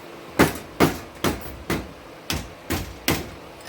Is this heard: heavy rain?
no